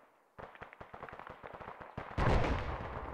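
Indirect artillery fire in a military video game, a rapid series of sharp, punchy shots in an irregular rhythm, followed by a louder, heavier blast that rolls on and fades slowly.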